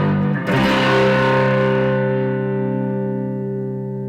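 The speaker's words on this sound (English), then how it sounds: "It'd be as if you turned on your compression pedal, and set the gain at max." Electric guitar through a compression pedal with the gain at maximum: a hard, distorted strummed chord rings out loud and thick, sustaining evenly and slowly fading over several seconds with no talking.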